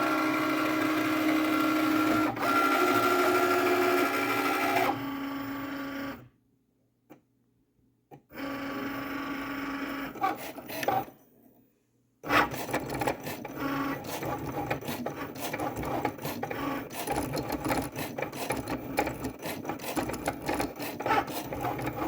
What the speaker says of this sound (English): push the blinking Cricut C button to begin the cut